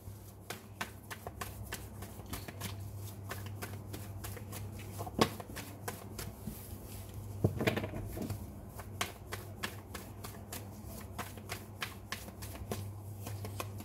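Tarot cards being shuffled and drawn by hand, a quick close run of crisp flicks and soft slaps, fairly quiet over a low steady hum.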